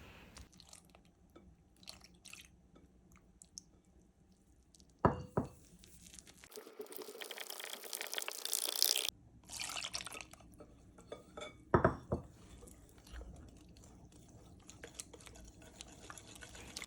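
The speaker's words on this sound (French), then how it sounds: "verse 240 g de lait en 3 fois tout en fouettant avec énergie" A whisk clinks and swirls briskly in a bowl as milk is poured into potato pancake batter, with splashy liquid sounds and a louder stretch of stirring, close and unaccompanied by talk.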